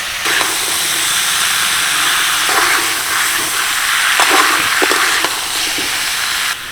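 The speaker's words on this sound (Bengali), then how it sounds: "আমি প্রায় দুই থেকে আড়াই মিনিটের জন্য চালতাগুলোকে হালকা ভেজে নেব" Pieces of elephant apple (chalta) fry in a pan with a loud, steady hiss, broken by a few soft stirring knocks.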